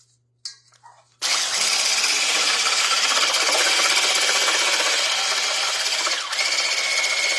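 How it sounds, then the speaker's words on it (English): Batter for chile rellenos is whisked toward peaks: after a brief clatter, a loud, steady whirring whisk runs on without pause for about six seconds, with a small dip near the end. "we're going to whisk this until it makes nice, big"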